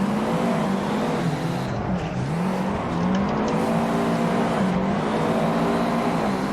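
A drifting car in Assetto Corsa, one of two Nissan Sylvias running tandem, drones continuously at high volume with wavering revs as the throttle is blipped through a slide, no speech over it.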